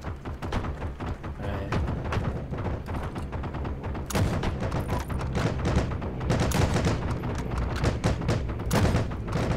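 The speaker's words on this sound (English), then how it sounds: "This guy's just shooting into the air." Video-game gunfire crackles in dense, irregular bursts of loud shots with occasional heavier booms. The firing runs continuously with almost no pauses.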